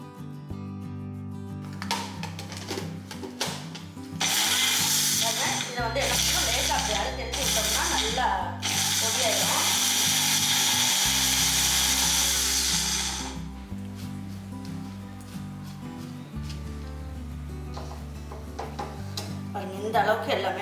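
A kitchen mixer grinder whirs loudly in long bursts, grinding spices with garlic cloves into powder for tomato rasam. A voice speaks between and under the runs.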